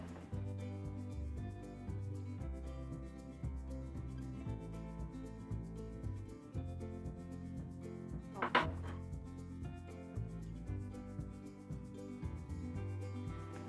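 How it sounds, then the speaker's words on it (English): A knife chops olives into slivers and cubes for a homemade Greek salad, making faint, steady taps on a cutting board beneath soft background music. "So we're going to chop this up so that we have little slivers and cubes"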